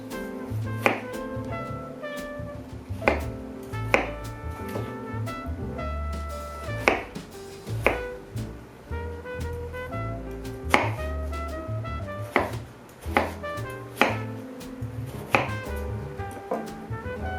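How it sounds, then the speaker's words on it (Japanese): A knife chops a tomato partly thawed in the microwave on a cutting board in a steady series of sharp taps, close by, over soft background music. "電子レンジで少し解凍させたトマトを刻んで"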